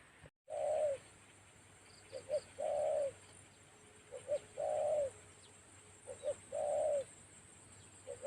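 A spotted dove coos in a regular repeating phrase, clear and fairly close, with short soft notes between the longer calls over quiet outdoor background.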